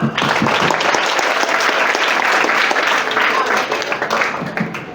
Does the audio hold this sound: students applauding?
yes